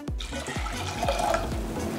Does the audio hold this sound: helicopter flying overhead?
no